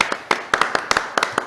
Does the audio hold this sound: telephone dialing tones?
no